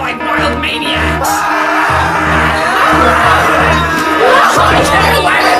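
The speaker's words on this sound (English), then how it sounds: "Please start running around and screaming with your hands in the air like wild maniacs!" A crowd screams and shouts while running around in a scene from Blue's Big Musical Movie, a loud, continuous wall of whoops and yells over a pulsing rhythmic backing.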